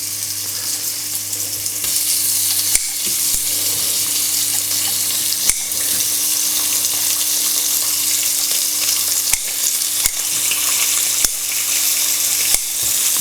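Sixteen rashers of bacon crackle and hiss loudly in a pan, a dense continuous sizzle with a few sharp pops and utensil knocks, close and without speech.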